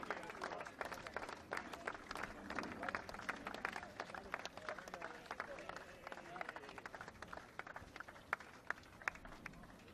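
Players applauding a charity cricket team off the field at a Last Man Stands World Championships play-off, steady scattered clapping with crowd murmur and voices throughout, moderately distant.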